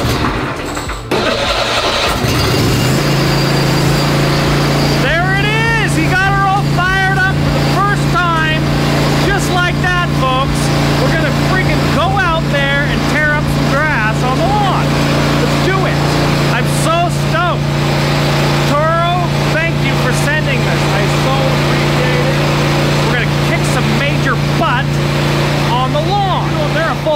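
A Toro Titan Max riding mower engine catches and runs steadily at a loud, constant drone after a brief start, with people talking over it at a service dealer's lot.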